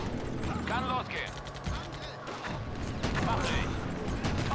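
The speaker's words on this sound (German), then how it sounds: "Oh, das war mein eigenes Geschütz." Artillery guns fire in the WWII strategy game Blitzkrieg, heavy booming reports scattered through a busy battle mix, with clipped unit voice responses heard alongside.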